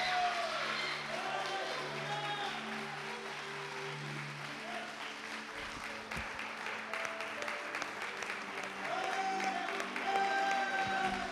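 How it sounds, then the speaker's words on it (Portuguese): A congregation applauds during a church sermon, a soft, continuous clapping from a crowd that swells again near the end, with faint background music and voices. "Você pode dar um aplauso bem forte a esse Deus, em nome de Jesus?"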